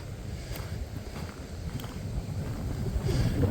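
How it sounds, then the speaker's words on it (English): Strong wind of over 30 mph buffets the microphone on the Hallaway Hill overlook in Maplewood State Park, a constant low rumble that swells toward the end. "It is windy up here."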